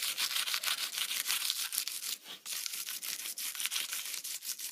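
A small brush scrubs bits out of a cut hexagonal box in rapid, rhythmic bristly strokes, close and fairly loud, hissy and scratchy, with a brief pause in the middle before the brushing resumes.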